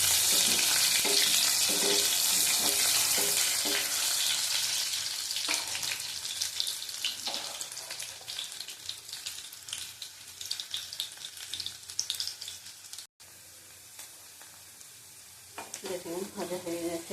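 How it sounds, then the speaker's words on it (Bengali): Potato pieces frying in a hot pan sizzle steadily and fairly loudly for the whole stretch, with stirring noises, a short break and faint water sounds now and then. "এবার আলুগুলি দিয়ে দেবো, আলুগুলি ভেজে দেবো ভালো করে।"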